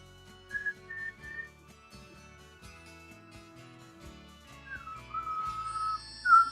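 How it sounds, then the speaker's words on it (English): Soft, breathy whistling during Kundalini yoga breathing, short wavering tones broken by pauses and rising to a brighter, louder held whistle toward the end. "and start to whistle"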